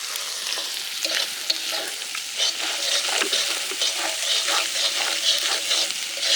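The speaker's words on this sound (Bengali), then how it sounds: "আদা রসুন বাটা দিয়ে দিচ্ছে" Ginger-garlic paste hitting a frying mussel curry over an open-air riverside fire, a loud close sizzle with brisk stirring and scraping throughout, no talking.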